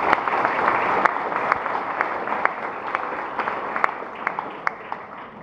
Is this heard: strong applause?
yes